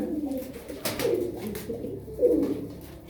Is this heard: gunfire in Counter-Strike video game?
no